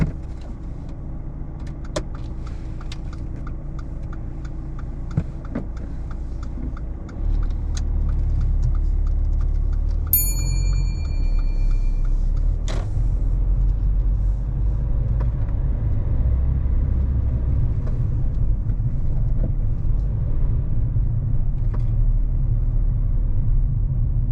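A learner driver's car pulls away at the end of a driving test, its engine rumble rising and settling into a steady, close drone inside the cabin, with a few faint clicks and a brief electronic chime along the way.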